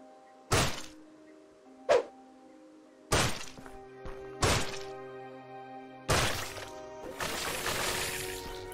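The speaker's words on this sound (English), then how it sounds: "So that's how we detonate and clear out these walls" Walls detonated and blown apart in the action RPG Morbid: The Seven Acolytes, several separate loud blasts and crunching impacts spaced out, with a longer crumbling rumble at the end over a low sustained game tone.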